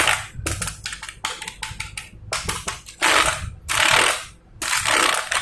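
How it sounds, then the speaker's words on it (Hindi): Sharp plastic clicks from a brand-new USB keyboard, including the Enter key, come in quick close taps and short clusters, followed by a few longer, louder clattering bursts, with no talking. "एंटर की आवाज सुनो।"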